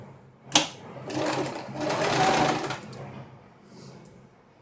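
A sewing machine stitches pleats in cloth in a few short, buzzing bursts close by, separated by brief pauses and small clicks.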